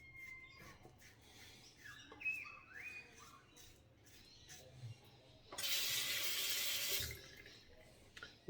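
A tap runs faintly as a shaving brush is rinsed after lathering sandalwood soap, with quiet handling noises before a brief steadier gush of water near the end.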